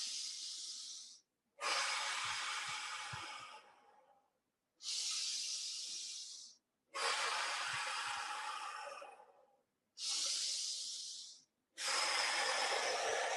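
Slow deep breathing exercise: three rounds of long hissing inhales, each followed by a longer rushing exhale, close and fairly loud in a quiet room.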